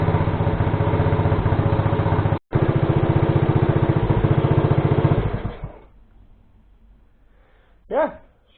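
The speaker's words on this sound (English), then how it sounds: "We're bringing the idle down a little bit" A Honda ATC 70 three-wheeler engine idles loud and close with a steady, fast low putter for about five seconds, broken by one brief dropout, then it shuts off and a voice speaks in the quiet.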